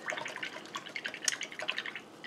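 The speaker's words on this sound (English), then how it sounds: "I just rinse my brush in water in between colors" A paintbrush is rinsed in a water cup between colors while acrylic painting a flamingo flower pot, giving close, light dripping and sloshing splashes in a steady run of small taps and trickles.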